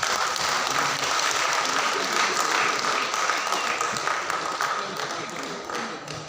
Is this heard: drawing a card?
no